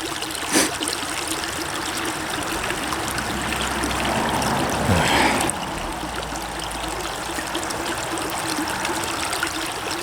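Creek water trickling over stones, a steady close babble filling the whole stretch, with a brief louder gush partway through and no one talking.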